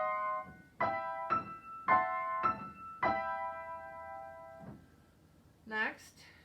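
Piano with both hands playing a passage from a Nutcracker Suite medley: a series of sustained chords struck in a steady sequence, with a quick higher run at the end, played alone and fairly close.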